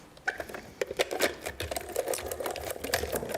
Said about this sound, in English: I'm just going to quickly bring my mini in, and I'm just going to run it through with that.